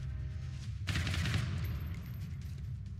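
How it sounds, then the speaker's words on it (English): Gunfire in a video game, a sudden burst of shots that starts about a second in, then trails into a rattling tail of echoing fire. "I probably should shoot then"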